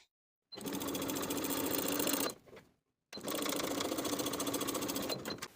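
A sewing machine edge stitches along the folded edge of a bag pocket on a Wren Weekender bag, running in two steady, close-up bursts of rapid stitching separated by a short pause.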